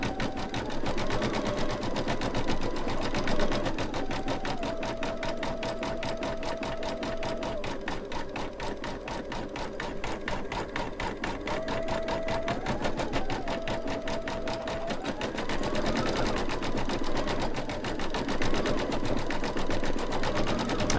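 An embroidery machine stitches a bicycle-and-hearts design in a fast, steady needle rhythm with a whining motor tone that shifts pitch as it moves, running continuously and fairly close.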